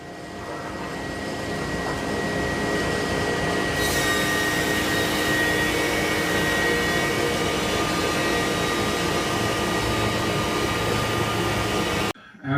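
A 20-inch thickness planer milling thick boards gives a loud, continuous roaring whine that holds steady for about twelve seconds before cutting off abruptly.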